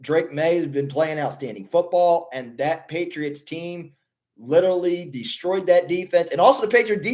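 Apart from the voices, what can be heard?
No distinct noise like a dog, phone or traffic.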